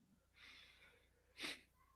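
A single sneeze bursts out sharply near the close, after a soft breathy intake, heard nearby in a quiet room during a podcast conversation.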